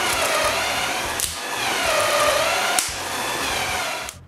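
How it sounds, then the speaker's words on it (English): A power drill whirs steadily at close range, drilling holes in a wooden beam, with brief pauses and changes in pitch as the bit bites in, no voices. "Then I can drill 2 holes to fix it in place."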